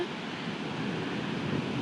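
Ocean waves at Bapatla beach give a steady broad wash of surf with wind rumbling over the microphone, continuous and close, with no talking.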